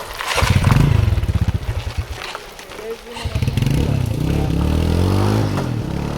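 A motorcycle engine revs in rapid bursts close by, its pulsing growl rising and falling, with a clatter as it settles into a steady drone, while people talk over it.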